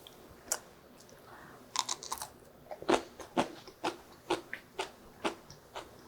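Crisp green chili peppers, freshly pickled, are bitten and chewed up close, a series of sharp, irregular crunches spaced a fraction of a second apart over a quiet background, with no talking.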